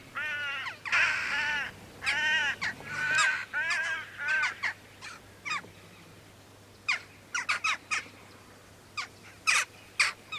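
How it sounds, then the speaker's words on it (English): A hooded crow and jackdaws caw and chatter in an agitated outdoor commotion, with bursts of harsh repeated calls followed by scattered sharp single caws, moderately close and clear over a quiet background. "the rest of the corvids in the area, jackdaws and so like, started kicking up a fuss along with the hooded crow"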